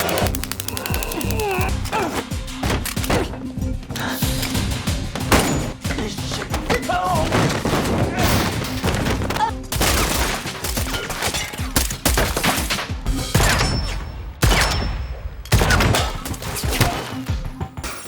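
A handgun fires repeatedly in a tense spy-thriller scene, loud close shots and crashing impacts packed densely across eighteen seconds over a busy dramatic soundtrack.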